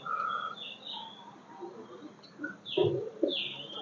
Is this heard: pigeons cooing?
yes